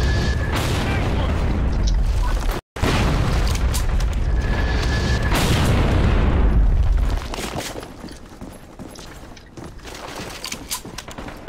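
A grenade goes off in the shooter game Metro Conflict, with heavy rolling booms that fill the first seven seconds before easing into quieter gunfire and clatter, as voices call out over the action.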